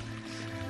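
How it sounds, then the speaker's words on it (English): Mario wading through shallow water in Super Mario 64, sewer level: a steady, close sloshing water wash with no break for its brief duration, no talk. "Mario's wading in water"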